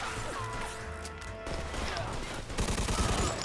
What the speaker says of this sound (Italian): ho sparato a qualcuno!